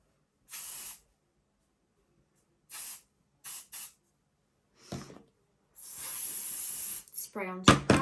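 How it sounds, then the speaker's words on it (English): Hairspray sprayed onto a hair brush while styling a sleek high ponytail, in short hissing bursts: a few brief puffs, then one longer spray, close and clear, with faint rustling around them. "Spray onto the brush"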